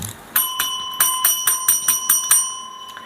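A bright, metallic notification bell rings in about nine quick, evenly spaced strikes. Each ding rings briefly and the sound is clear and loud with no voices.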